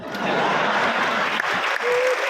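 An audience at a comic poetry gathering in Rohtak breaks into sustained, close applause, a dense patter of many hands with a few chuckles and a voice briefly rising above it.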